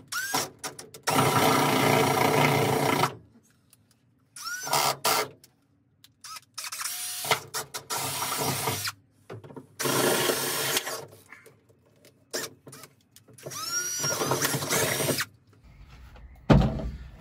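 Several loud bursts of power drilling with an 8.5mm bit, each a few seconds long, separated by short pauses, close up with no talking.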